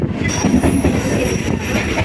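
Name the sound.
train entering Kolkata station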